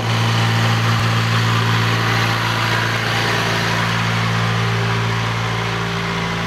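A 1997 Isuzu Panther engine with Black Core tuning runs steadily at about 2000 rpm, a loud, even mechanical drone with a constant hum and no variation or voices.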